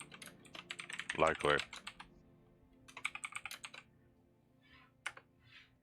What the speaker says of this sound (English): You're gonna hear a lot of me typing for a while.